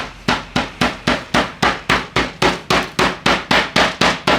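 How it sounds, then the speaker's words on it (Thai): A hammer pounds cooked beef repeatedly in a fast, steady rhythm, about fifteen sharp, loud thuds close by with no pauses. "พอเนื้อเย็นตัวลงแล้ว ใช้ค้อนทุบนะครับ"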